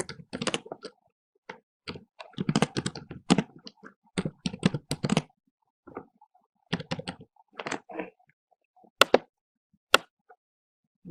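Typing on a computer keyboard in irregular bursts of close, crisp key clicks, with short pauses between flurries and no talking.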